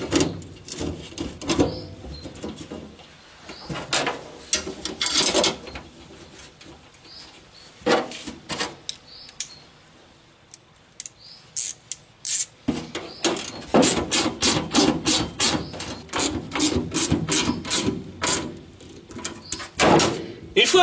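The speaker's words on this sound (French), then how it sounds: "je présente mes deux tôles que je vais pouvoir visser" Two 1.5 mm steel sheets being screwed into place during bodywork on a Citroën Traction 11B, heard close and loud as repeated clattering, rattling bursts of metal handling and driving, with a quieter lull midway before a dense run of rapid clicks.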